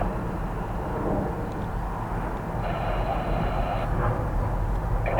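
A Jet Airways Airbus A330-302 departs Newark at night, a broad steady roar of jet engines at a distance with no one speaking nearby.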